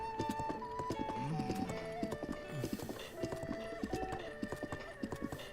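Rhythmic clip-clop of horse hooves trotting steadily throughout in The Legend of Zelda: Breath of the Wild, with a horse whinny and game music tones playing alongside.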